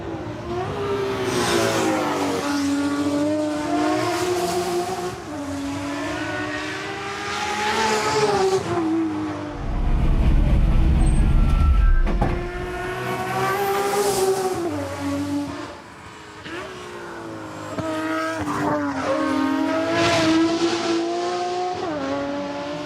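A touring car races at the Goodwood Festival of Speed, its engine revving hard and rising and falling through gear changes, with a deep roaring pass in the middle, loud and close throughout and no talking.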